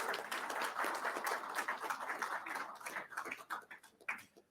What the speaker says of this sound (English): Let's give a round of applause to our sponsors again for that nice lunch break.